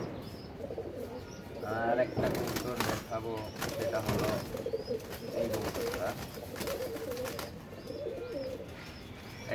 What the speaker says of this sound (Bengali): এটা হলো খয়রা কবুতর।